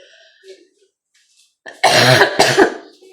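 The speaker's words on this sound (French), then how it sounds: "Ah, j'en ai marre de tousser comme ça." A few quiet breaths, then a burst of harsh coughing, two or three loud coughs close to the listener.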